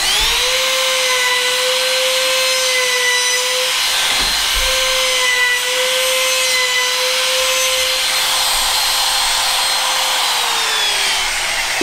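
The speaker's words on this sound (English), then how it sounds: "I have a palm router, and this I keep in my van, and it's always chucked up with a 1/4 inch bit just for this reason" A palm router with a 1/4 inch bit trims the cut end of wood trim, giving a loud, close, continuous high-pitched whine that holds steady, dips briefly partway through, then carries on and slowly winds down at the end.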